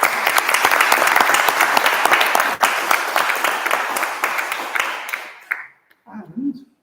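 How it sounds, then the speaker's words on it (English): A crowd applauds at an annual awards celebration, loud sustained clapping filling the room for about five seconds before dying away abruptly, followed by a brief murmur of voices. "So please give them a round of applause."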